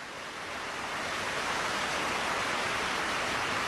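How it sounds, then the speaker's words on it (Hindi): Water suddenly gushes out in a Stone Age cartoon, swelling within a second into a steady, roaring rush like a waterfall that continues without any voices. "अरे पानी।"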